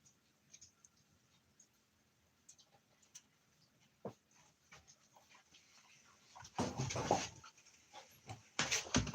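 Puppies panting close by after coming back inside, soft rapid breaths with light pattering and scuffling that grow louder and busier toward the end, no speech.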